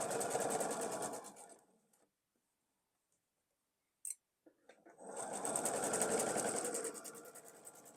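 A sewing machine stitches a quilt block seam in a fast, even chatter of needle strokes. It runs, stops for a couple of seconds of near silence with a few faint clicks, then starts up again, with no talking.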